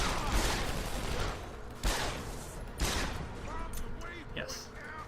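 Boss Barrett firing in the video game Deus Ex: Human Revolution, heavy gunfire in loud repeated bursts with a few sharp blasts, while a person talks over it.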